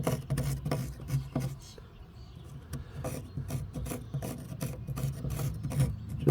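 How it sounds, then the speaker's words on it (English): Screwdriver scraping debris out of a crevice in an old wooden bench, a quick series of close, rasping scratches in irregular strokes, fairly quiet and with no one speaking. "I'm going to try and just get it out with this screwdriver"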